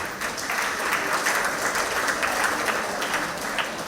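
An audience at a monthly community meeting breaks into steady, full applause, with dense overlapping claps sustained at an even level throughout.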